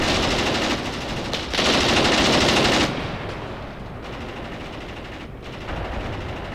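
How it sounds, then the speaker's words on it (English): Armored car in the Graviteam Tactics war game firing its 20mm cannon and machine guns: sustained, loud bursts of automatic fire with a heavier stretch midway, then lighter, steady gunfire continuing to the end. "This armored car is starting to engage somebody."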